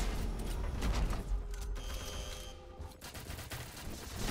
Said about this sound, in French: Oh les tirs.